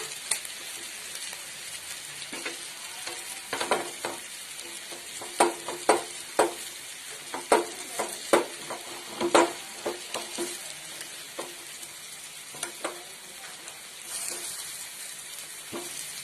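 Homemade chicken tandoori pieces flipped in a hot pan on the stove, with a soft steady sizzle broken by scattered close clinks and taps of the utensil, busier in the middle stretch and quieter toward the end.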